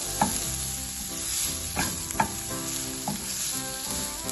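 Chopped capsicum is stirred into sizzling chicken tikka bites in a pan, with steady frying hiss and several sharp scraping knocks of the spoon against the pan.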